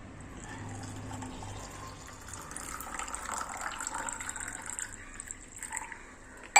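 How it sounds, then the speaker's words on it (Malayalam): Water is poured steadily into a container holding about two spoons of orange peel, a continuous filling splash that builds slightly before ending with a sharp knock. "ഇനി ഇതിലേക്ക് നമ്മൾ നിറച്ച് വെള്ളവും കൂടി ഒഴിച്ചു വെക്കാം."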